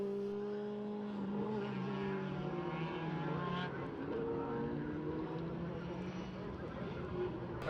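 Formula BOSS race cars roar along the straight at Mondello in wet, awful conditions, a loud continuous engine drone with shifting pitches as several cars pass, under a commentator talking throughout.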